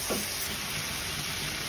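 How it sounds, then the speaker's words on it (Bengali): Data greens (amaranth) being stirred in a pan, a short burst of continuous loud sizzling with a faint scrape of mixing at the start, no voices. "শাকটাকে এখন ভালো করে মিক্সড করে"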